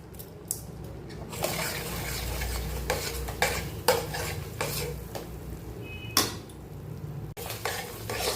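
Masala for prawn malai curry, with cashews, garam masala powder and sugar, is stirred and sautéed in a pan. A spatula scrapes and knocks rhythmically over a soft background sizzle.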